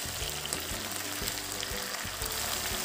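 Onions and chopped green chillies frying in a pan for aloo methi, a steady dense sizzle with soft stirring knocks throughout, close and continuous with no talk.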